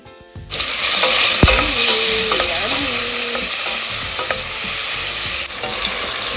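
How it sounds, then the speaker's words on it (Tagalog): Tomatoes and onions sautéing in a pan for pork sinigang: a loud, close, continuous hiss of frying that starts abruptly after a brief quiet moment and holds steady, with faint stirring clinks. "gisa natin ang ating kamatis"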